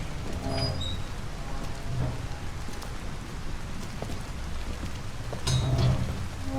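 Steady heavy rain at night in the video game Detroit: Become Human hisses continuously, dense and even, with faint low rumbles and small clicks beneath the downpour.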